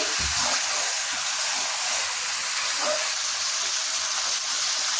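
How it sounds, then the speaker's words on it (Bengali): Marinated chicken being mixed with spices in a hot pan for a chicken and potato curry gives a steady, loud, close sizzle and hiss that runs unbroken throughout. "এবার আমি মশলার সঙ্গে ভালো করে এভাবে মিশিয়ে নিচ্ছি"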